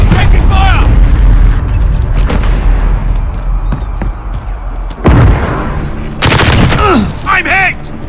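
Loud gunfire and booming blasts fill a Modern Warfare match, with repeated shots and explosions and game voice callouts over them.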